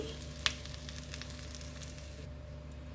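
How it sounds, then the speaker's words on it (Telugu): Semolina frying in ghee in a kadai over a low flame, a soft steady sizzle with a single brief scrape near the start, close and quiet over a low background hum. "మంచి ఫ్లేవర్ వచ్చేంత వరకు కలర్ మారేంత వరకు ఫ్రై చేసేసుకోండి"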